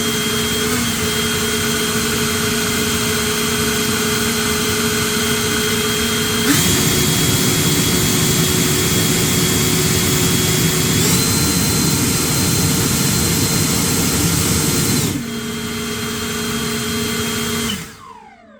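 Ego cordless leaf blower, the 1000 CFM model, running loud and steady with a high squealing whine, its pitch stepping up partway through and then dropping back before it winds down at the end.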